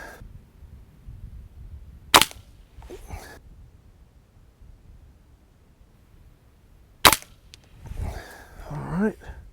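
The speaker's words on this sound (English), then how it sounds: "I'm gonna start shooting at the smaller targets now" Two sharp, loud shots from a Diana AR8 N-TEC .22 air rifle fired at targets, spaced several seconds apart against a quiet background, with a little faint talking and movement between.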